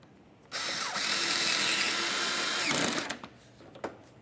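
A power drill whirs for about two and a half seconds driving a mounting screw into a 2006-2011 Honda Civic front bumper, close and steady, followed by a few small clicks and handling noises.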